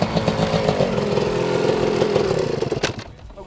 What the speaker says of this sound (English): get out there on the Husqvarna 500 AE automatic two-stroke